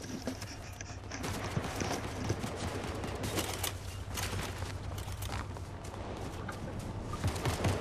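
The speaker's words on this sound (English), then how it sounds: "there's someone shooting at the bots right now" Gunfire in Fortnite Chapter 5 as players shoot at bots, a busy stream of scattered shots and impacts over a steady game soundscape with a low hum, dense and continuous throughout.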